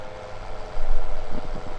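A Fendt tractor engine in Farming Simulator 17 idles with a steady low rumble that swells slightly louder partway through, no voices over it.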